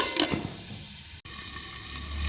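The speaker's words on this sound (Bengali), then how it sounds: "ঢাকা দিয়ে দিয়ে আমি সবজিটা কিন্তু ভাজি" Vegetables fry in a covered pan, a steady close hiss of sizzling with a couple of stirring strokes early on and a brief cutout midway before the frying continues.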